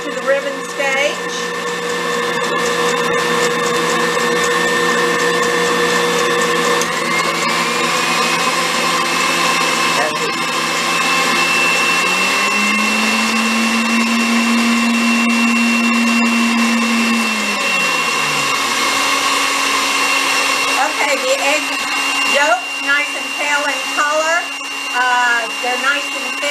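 Electric hand mixer whipping egg yolks for tiramisu, a steady motorized whir running throughout, its pitch rising and shifting midway as the mixture thickens, with brief kitchen clatter near the end.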